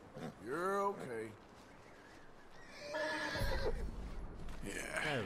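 A horse whinnies loudly and close in the video game Red Dead Redemption 2 after a wolf attack, a shaking neigh that rises and falls, then snorts and nickers briefly with a rustling, breathy noise in between.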